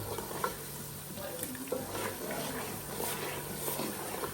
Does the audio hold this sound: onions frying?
yes